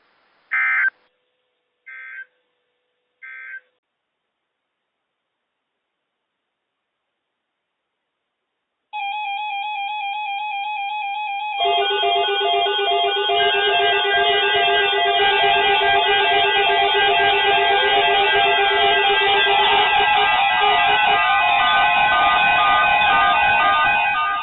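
A National Weather Service weather radio warning alarm plays three short beeps, then a long, loud, steady alert tone that holds to the end with no voice.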